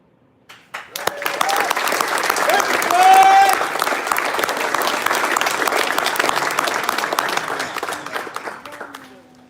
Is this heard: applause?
yes